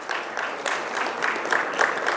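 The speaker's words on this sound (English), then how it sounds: "Can we have a big round of applause for Ms. Kanika?" Audience applause at a business storytelling talk, a steady wash of clapping from a seated crowd that carries on without pause.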